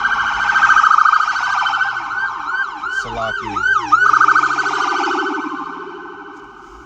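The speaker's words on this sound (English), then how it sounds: "It's always fucking sirens." Emergency vehicle sirens wail loudly in a city street, layered yelp and wail tones sweeping rapidly up and down for several seconds before fading slightly, with a brief spoken word over them.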